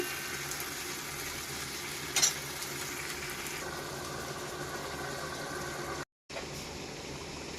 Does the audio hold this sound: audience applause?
no